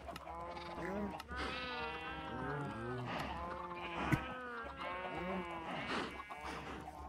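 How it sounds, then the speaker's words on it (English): Cows in the Minecraft video game low repeatedly in a string of drawn-out, wavering calls, moderately quiet and slightly distant, with brief gaps between them. "Sounds like cows over there."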